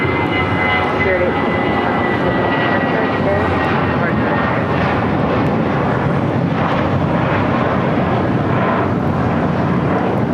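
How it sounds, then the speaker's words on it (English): Spirit Airlines Airbus A320 taking off at LAX, a loud continuous engine roar that holds steady across the whole stretch with no break. "This is Spirit Airlines 816 taking off to Kansas City on an A320."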